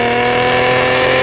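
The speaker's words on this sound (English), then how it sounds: "Tom, can I hear your engine again?" A car engine revs hard and steadily, loud and close, a continuous rising mechanical roar with no voices.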